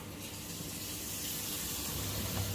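Hot water flows from a tap after repair of a leaking diverter valve on a Vaillant ecotec boiler, a close, steady gushing rush that swells slightly toward the end.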